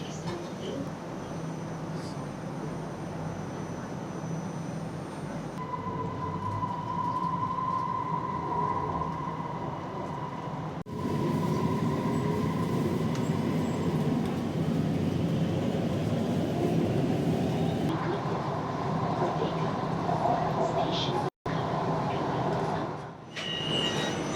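Inside a Kuala Lumpur light rail train, a constant rumble of wheels and motor carries faint whining tones, while people talk over it.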